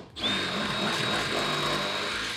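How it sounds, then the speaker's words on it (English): Power drill boring into the steel car body of a Toyota Mark II JZX110 during a manual swap, a steady high motor whine held at close range for about two seconds, ending with a brief louder burst. "Maybe we'll get a sharper drill bit instead."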